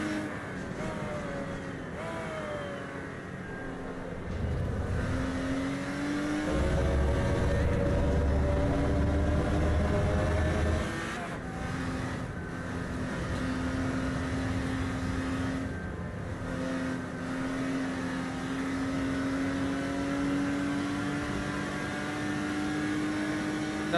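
Fast race car in an evening online racing sim session, engine revving hard with rising and falling pitch sweeps through gear changes, a loud steady drone with brief heavier bursts, no talking.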